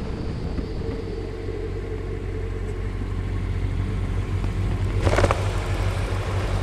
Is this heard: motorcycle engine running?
yes